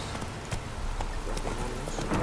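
Horse hooves clip-clop steadily at a moderate pace in The Witcher 3, fairly faint under a soft ambient bed with no talk over them.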